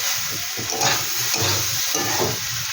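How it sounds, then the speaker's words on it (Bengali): Sugar is stirred into a spicy kachki fish curry with drumstick flowers as it fries in a pan. The oil sizzles and hisses steadily, broken by repeated scraping strokes of the spoon close by. "হালকা করে একটু চিনি দিয়ে একটু নেড়ে দিচ্ছি"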